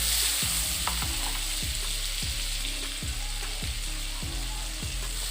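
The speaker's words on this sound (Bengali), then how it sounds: "বাটারটা মেল্ট হওয়ার জন্য অপেক্ষা করব" Two tablespoons of butter melt and sizzle in a kadai over a low gas flame, a soft continuous hiss with a regular series of clicking, ratchet-like taps repeating about every half second.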